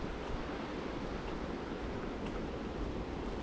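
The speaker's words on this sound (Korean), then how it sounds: "바닷물이 흘러가네요." Seawater running over tidal mudflats in a Korean wetland park near Incheon, a steady broadband wash that stays even and continuous throughout, with no voices.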